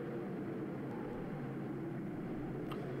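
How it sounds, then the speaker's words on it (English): An airplane passing overhead in the Boogeyman horror video game, a steady low droning rumble heard alone, fairly faint and even throughout. "Oh, okay, that was just the plane."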